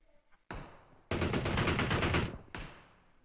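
A PUBG Mobile gunfight erupts in loud, close bursts of automatic fire: a short volley, then a long sustained spray of rapid shots, followed by another short burst that trails off into echo.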